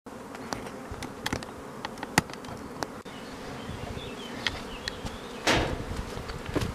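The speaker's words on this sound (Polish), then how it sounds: "To pokazałem Państwu pszczoły kaukaskie." Caucasian honey bees at an apiary hive in spring, a dense, continuous close-up buzzing with individual bees darting past, accompanied by occasional light clicks and taps.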